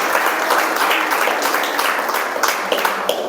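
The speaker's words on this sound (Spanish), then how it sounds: "un fuerte aplauso al rey" A church congregation breaks into sustained applause, a dense wash of many hands clapping at once that carries on steadily from start to finish with no voices rising above it.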